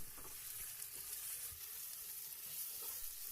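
Marinated mutton pieces fry with chopped onions in a pan, a dense continuous sizzle with faint stirring scrapes, close and steady throughout without any talking.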